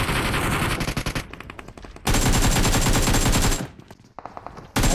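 Automatic weapon fire in PUBG Mobile, long rapid bursts of close, loud shots broken by brief pauses, with a short final burst at the end.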